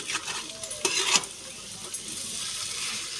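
Spiced cabbage frying in a pan as it is stirred, a few sharp scrapes and clinks of a spoon early on over a steady, moderate sizzle that continues alone afterward.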